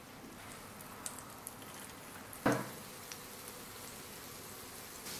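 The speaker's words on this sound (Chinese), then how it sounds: "油热后生坯芝麻面朝上， 放入锅中" Faint, steady sizzle from sesame paste flatbread dough laid sesame side up in a preheated, oiled electric griddle pan, with one brief louder pop midway and a few soft crackles.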